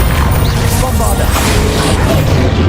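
Bombarda explosion spell in Hogwarts Legacy, a loud booming blast with crashing, roaring noise that fills the whole short moment without letup.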